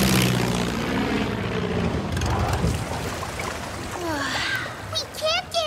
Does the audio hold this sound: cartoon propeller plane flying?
yes